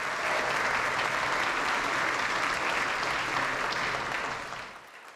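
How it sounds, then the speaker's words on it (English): Audience at a college graduation ceremony applauds the donors, a dense wash of clapping holding steady and loud for about four seconds before tapering off near the end. "If we can give them a round of applause"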